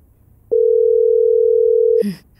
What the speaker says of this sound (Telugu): అమ్మకు ఫోన్ చేద్దాం.